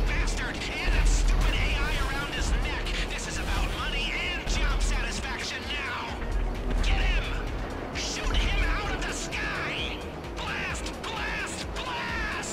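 Missiles and heavy weapons fire in Grand Theft Auto V during the Doomsday Heist, with dense booms, crashes and mechanical clatter running continuously under players talking excitedly over one another.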